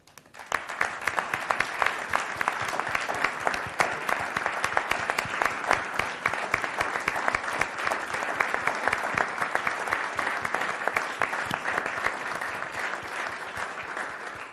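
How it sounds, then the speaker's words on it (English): Sustained applause from a standing crowd at a White House celebration honoring workers, dense steady clapping that carries on for about fourteen seconds with no talk over it. "we'd love to give you a round of applause."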